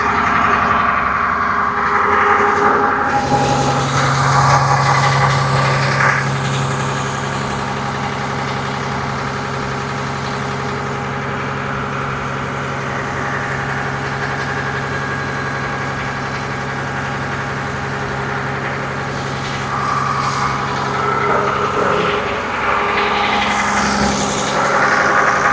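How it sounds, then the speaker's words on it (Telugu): A small inboard engine on a fishing boat idles steadily at sea, giving a continuous low, throbbing drone with a faint knock that holds close and even throughout, with some talk now and then. "చిన్న ఇంజిన్ బుడ్డ ఇంజిన్ అనమాట"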